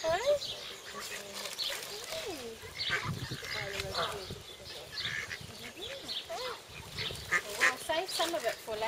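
Ducks, pukekos and other waterfowl at Nga Manu Bird Sanctuary honking and quacking repeatedly at close range while being fed, with overlapping calls throughout and people talking nearby.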